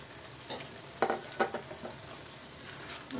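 Chopped potatoes hit a hot pan and sizzle in a low steady hiss, with a few sharp stirring scrapes and clinks standing out near the start.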